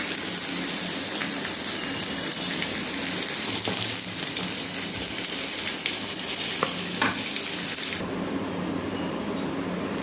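Okra sautés in a pan with a loud, close, continuous sizzle and crackle that stays steady throughout, with no voices.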